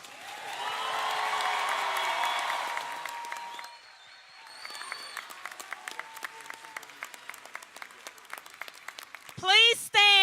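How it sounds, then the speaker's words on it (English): A commencement ceremony crowd applauds for the graduating health sciences school, a loud, dense wash of clapping and cheering that swells, then fades into scattered claps before a voice speaks over it. "now is the time to give our School of Health Sciences one another round of applause."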